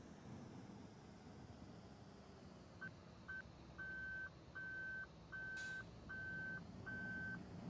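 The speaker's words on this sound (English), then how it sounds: "at least the backup alarm's louder than the engine on this thing" A truck's reversing alarm in the video game Farming Simulator 2013 sounds a steady series of evenly spaced electronic beeps over a low engine rumble, fairly quiet overall.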